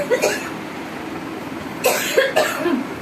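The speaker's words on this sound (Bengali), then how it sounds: "ভীষণ কাশি হচ্ছে" Several sharp coughs from one person, a pair early on and a louder cluster near the end, close to the microphone over a low background rumble.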